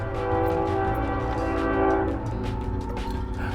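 A train passes close by, sounding its horn in loud, sustained blasts over the steady rumble and clatter of the rail cars.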